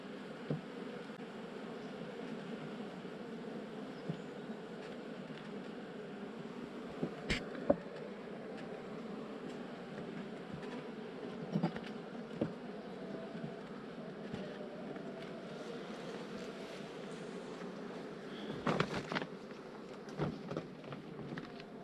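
A dense, steady hum of many honey bees buzzing close by at a hive during honey harvest, continuous throughout with a few louder passes and faint clicks.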